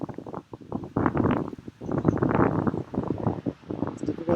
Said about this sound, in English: it's windy today, and that sound meter goes back and forth with the wind